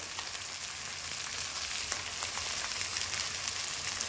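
Curry leaves crackle and sizzle in hot sesame oil for a tuna pickle, a steady, bright, hissing fry close by with no one speaking.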